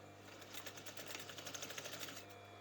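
A sewing machine runs fast, stitching an overlocked fabric seam on a cushion pillow slip. Its rapid, even needle clatter is close and steady, with a constant motor hum underneath, and it stops near the end.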